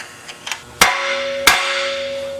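A hammer strikes metal twice to break a tie rod taper loose on a car's front suspension, two loud close clanks that leave a lingering ring, preceded by a few lighter taps.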